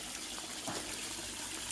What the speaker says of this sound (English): I'll just pour a drop